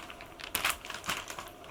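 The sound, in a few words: comic in a plastic bag being handled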